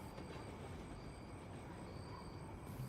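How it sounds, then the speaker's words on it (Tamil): A midnight train runs past on the rails as a continuous low rumble, steady and moderately loud, with a faint high whine above it. No other sounds come through. "இந்த ட்ரெயின் சத்தம் கேக்குதுல"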